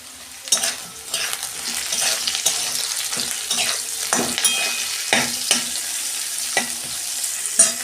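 Vegetables for shukto fry together in a pan with a steady sizzle, punctuated by repeated scraping stirs of a spatula, close and fairly loud.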